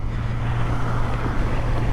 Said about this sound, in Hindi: ट्रैफिक बहुत है आज